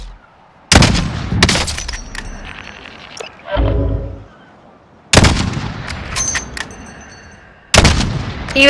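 Several loud gunshots crack out in the Call of Duty multiplayer map Port, spaced bursts with short tails separated by quieter game ambience and a brief low rumble.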